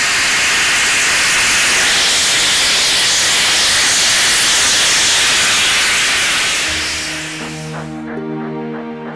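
A loud, steady roar of escaping steam from a steam locomotive hisses for several seconds, then fades as music with sustained tones comes in.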